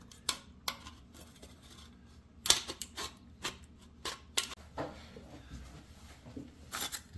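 A thin sheet of aluminum is cut by hand, producing a sparse series of crisp, close metallic snips and clicks spaced irregularly over a quiet background.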